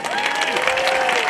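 Applause from a live audience at an Italian music show, a dense steady wash of clapping heard close and loud, with faint voices and a trace of music mixed underneath.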